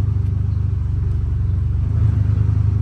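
A CFMOTO off-road vehicle's engine labours under load in low gear with weight in the back, a steady, loud, close rumbling drone that holds throughout with a slight rise near the end.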